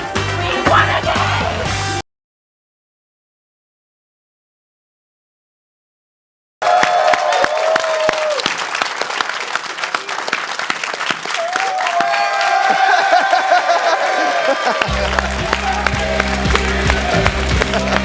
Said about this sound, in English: What an incredible crowd we have in today. Cheering your name